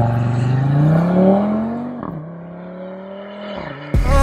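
An Audi RS Q3 with 400 hp accelerates hard, its engine note climbing through the gears with distinct shift dips, loud and close, ending in a sharp burst.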